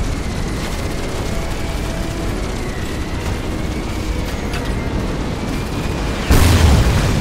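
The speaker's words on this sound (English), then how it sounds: "Just a hit with a rocket." A rocket blast in the shooter game Crysis: constant loud, rumbling battle noise runs throughout, then a sharper boom hits near the end and the din swells. No one speaks.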